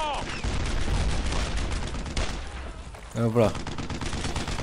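Gunfire rattles in the video game Brothers in Arms: Earned in Blood, with sustained overlapping bursts and booming shots filling the scene; a voice speaks briefly near the end.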